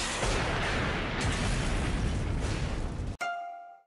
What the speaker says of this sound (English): That's it, explosion time.